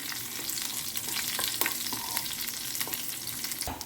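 Steady hiss and crackle of dried red chillies and garlic frying in hot oil for a moong dal tadka, with occasional sharper pops and a stirring scrape.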